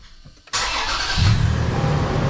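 A V6 car engine cranks and fires up abruptly, settling into a loud, steady rumble close by.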